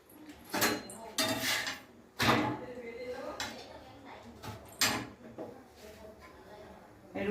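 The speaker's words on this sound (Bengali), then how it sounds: "রুটিটা বেলে নিই।" Roti dough is rolled out with a rolling pin on a board, making a few loud knocking clatters followed by softer rolling and scraping, with someone speaking quietly now and then.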